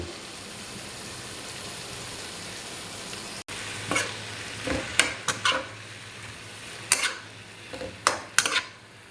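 Chicken, cabbage, potatoes and carrots sizzle steadily in a hot pan while a utensil stirs and scrapes, with several sharp clinks of metal against the pan.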